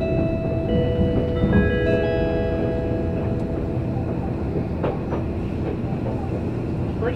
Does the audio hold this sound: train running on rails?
yes